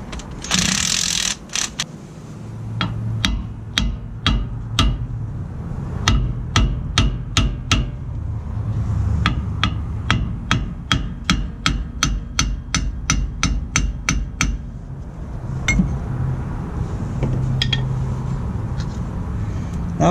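Metal hammer blows striking stuck washers on a Dana 70 rear axle during brake work, a long series of sharp, close, loud clanks in uneven bursts, some fast and rhythmic, with no talking.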